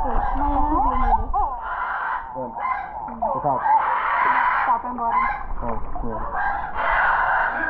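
Birds near a backyard pool give repeated loud honking and crowing calls in bursts, close by, with a baby crying and people talking over them.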